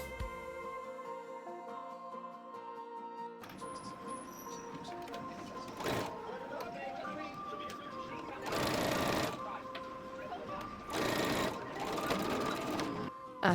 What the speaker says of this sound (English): Then sew them together with a 1 centimeter seam allowance.